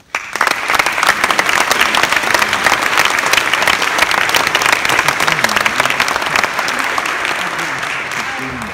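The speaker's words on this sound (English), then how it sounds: "join me in a round of applause for all of tonight's finalists and winners" Audience at a student nurse awards ceremony at a university breaking into applause, a sustained, dense round of clapping from a large crowd that starts abruptly, holds steady for several seconds and eases slightly near the end.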